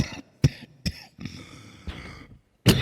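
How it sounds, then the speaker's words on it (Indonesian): A man coughs several times in a church service, with sharp, abrupt coughs spaced apart, some throat clearing and muffled vocal sounds between them, close and fairly loud. "Tak batuk dulu."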